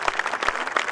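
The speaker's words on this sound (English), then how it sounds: "it deserves a round of applause for Qamar Bhai" Crowd applause at a tribute event for cricket legend Hanif Mohammad, a dense, steady patter of many hands clapping close and fairly loud.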